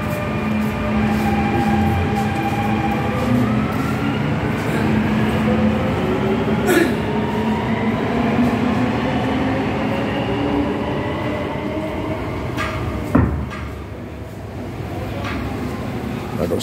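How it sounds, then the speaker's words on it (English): A Dubai Metro train pulls out of a station, its electric motors whining in rising tones over a steady rumble and rail clatter, loud and close, with a voice speaking and a brief sharp clank near the end. "Oh, the metro is leaving."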